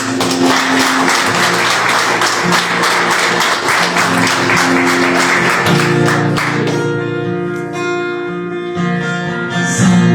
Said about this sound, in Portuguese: Uma salva de palmas, amém?